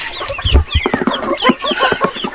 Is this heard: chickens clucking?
yes